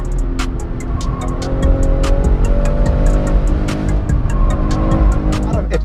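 A BMW M240i engine revs loudly up close, with repeated sharp throttle blips and gear changes over a steady roar.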